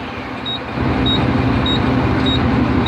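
A truck's diesel engine idles, then steps up after a moment to a louder, steady higher-RPM drone around 1500 RPM to build air pressure, close and continuous.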